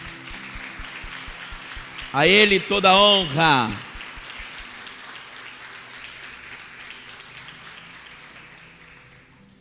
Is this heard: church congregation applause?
yes